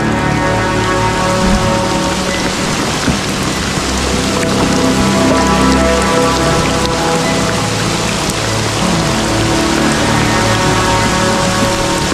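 A heavy rain downpour over an open creek roars steadily and loudly throughout, a dense continuous wash of drops pounding on surfaces without letting up.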